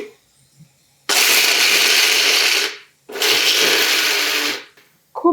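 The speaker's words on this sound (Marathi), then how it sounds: "आता मिक्सरमध्ये हे वाटून घ्यायचं" An electric mixer grinder whirs at full speed in two long bursts, grinding ginger and garlic into a paste in a home kitchen. The roar is loud and close, with a short pause between bursts and a brief restart at the end.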